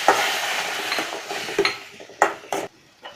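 Tomatoes with crushed pepper and cumin frying in a pan for paruppu rasam, a soft sizzle broken by several clanking spatula strikes and scrapes against the metal, with no talking.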